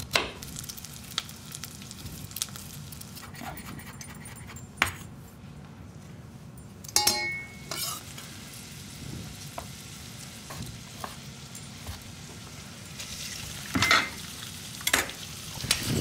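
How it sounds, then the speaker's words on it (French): Garlic, ginger and shallots sautéing in olive oil in a sauté pan, a steady close sizzle with occasional stirring scrapes and utensil clinks against the pan. "On fait tout revenir ensemble."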